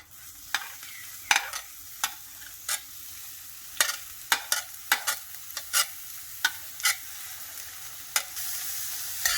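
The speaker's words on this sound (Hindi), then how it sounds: "तेल गर्म होने के बाद हम लोग इसमें वेजिटेबल्स डालेंगे।" Onion and zucchini fry in hot oil for a rusk pizza topping, a soft steady sizzle broken by a series of crisp spatula scrapes and taps as the vegetables are stirred, close up with no voices.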